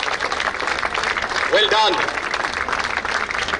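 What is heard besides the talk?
audience clapping at badminton tournament prize distribution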